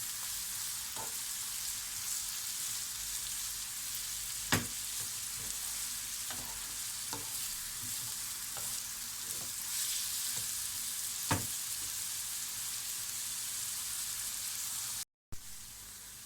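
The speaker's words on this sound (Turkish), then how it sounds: "Havuçlarımı da biraz daha yağda soteledim." Carrots sauté in oil with a quiet, steady sizzling hiss, marked by a few scattered spatula taps and stirs over about fifteen seconds.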